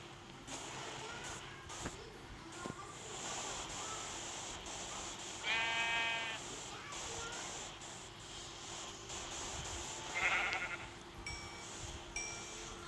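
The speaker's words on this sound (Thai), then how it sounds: "ผมต้องการแกะครับไม่ใช่ไก่" A Minecraft sheep bleats twice in quick, quavering calls over a quiet in-game background, the second fainter and shorter than the first.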